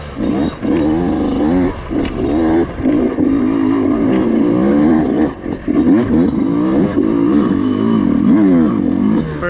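Yamaha YZ125X dirt bike engine revving while riding, loud and close, with rising and falling engine pitch as throttle changes, continuous without pauses.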